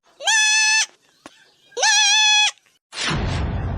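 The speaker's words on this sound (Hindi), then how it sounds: "बकरिया भोरकिन का आवाज ही आता है मालिक" Two loud, long goat bleats with a strong wavering tone, each close and separated by a short pause, followed by a burst of broadband noise.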